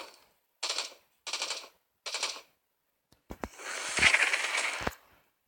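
Assault rifle fire in the zombie shooter game Into the Dead 2: three short, evenly spaced automatic bursts, then a longer sustained volley with sharp cracks, loud and close with no talking.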